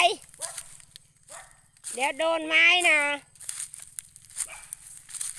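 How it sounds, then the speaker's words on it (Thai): A dog barks repeatedly on an evening walk through a rubber tree grove, a run of loud, close yelps in the middle, with people talking before and after. "โอ้ยอย่าเห่าดิ"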